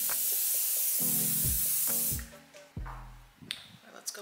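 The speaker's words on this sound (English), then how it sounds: "Touch with some hairspray. This is the Orbe Superfine Strong Hairspray." Orbe Superfine Strong hairspray misted onto hair in one long hissing burst from the can, close and loud, followed by quieter clicks and handling sounds.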